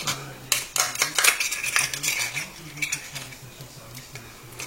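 A knife trims scallops from their shells, making a busy run of close metallic scrapes, clicks and taps against shell, with a faint low hum underneath.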